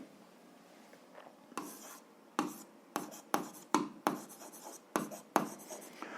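Pen strokes scratch across paper while a math problem is worked out by hand, coming in quick separate bursts with short pauses between them. The writing sounds close and fairly quiet, and no voice is heard.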